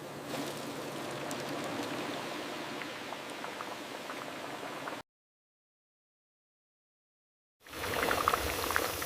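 Instant noodles sizzle and bubble steadily in hot oil in a factory, then a stretch of silence, and the frying resumes a bit louder.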